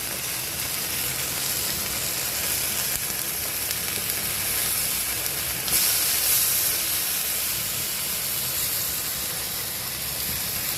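Meat searing in a hot pan and being flipped to its other side, a continuous loud hissing sizzle with a brief surge midway, no voices.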